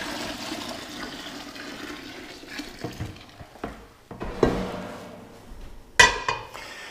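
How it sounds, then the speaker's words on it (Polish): Homebrew beer wort from a hopped kit poured into a bucket, a sloshing, splashing liquid rush with a few knocks and a sharp clatter near the end, close by and alone. "Przelewamy naszą brzeczkę do wiadra."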